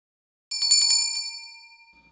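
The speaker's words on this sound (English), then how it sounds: "when I saw this set of four bells, I had to take a chance with them" A thrifted set of four small metal bells rings out in a quick run of bright strikes, then the clear tones ring on and slowly fade to silence.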